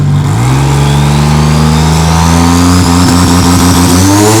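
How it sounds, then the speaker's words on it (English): A 1993 GMC Typhoon, an all-wheel-drive V6 truck built for drag racing, revving loudly up close, its engine tone climbing steadily and then holding at a high pitch with a pulsing flutter near the end. "This is my GMC Typhoon 1993."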